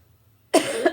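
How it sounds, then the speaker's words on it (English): A single close, rough cough bursts out after a moment of silence, followed by a couple of smaller hacking coughs. "I have a little bit of a cough still"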